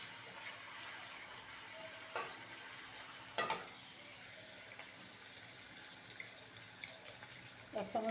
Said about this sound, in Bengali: নাড়াচাড়া করে নিই।